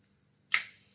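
Mustard seeds go into hot sesame oil in a kadai while fish kuzhambu is being made. A single sharp crackle bursts out, then a soft sizzle fades, close and with no talk.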